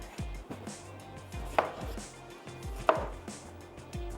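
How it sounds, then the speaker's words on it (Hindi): A knife roughly chops food on a board for a masala tinda dish, a quick irregular series of firm thuds with a couple of sharper knocks, close and clear, with no talking. "चलिए रफली चॉप कर लेते हैं।"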